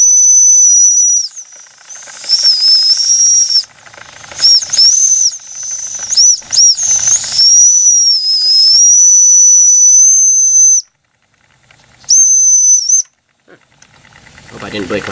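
A small steam engine gives off a shrill, high, piercing whistle in long loud blasts with wavering pitch and brief breaks, plus short bursts and hiss, close by.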